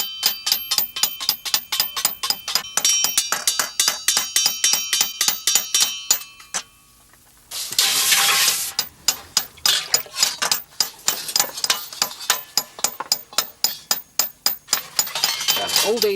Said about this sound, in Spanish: a mano, golpeando y modelando el hierro a altas temperaturas